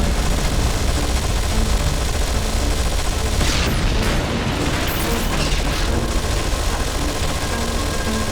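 Dense, continuous volleys of squad gunfire from the video game Anomaly 2 form a loud, unbroken wall of shots and blasts that swells slightly toward the middle.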